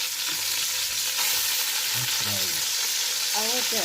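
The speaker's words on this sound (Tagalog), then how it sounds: "And fry the meat." Steady sizzling of meat frying in a pan, a dense hiss with occasional stirring scrapes, close and continuous with no talking.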